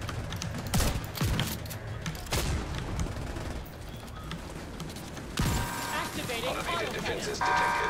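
Boss gunfire in the video game fight against Iron Horse, with rapid bursts of shots and sharp impacts layered over game effects and music, while players talk over the action throughout.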